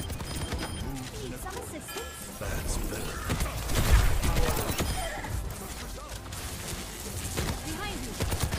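Turrets in the hero shooter Overwatch fire rapid, crackling volleys amid heavy game action, with gunfire, impacts and ability sounds layered densely and a louder burst of shots near the middle.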